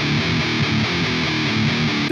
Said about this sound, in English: Just get a modern high gain tone, plenty of distortion, and make sure it sounds decent in the middle when you slam.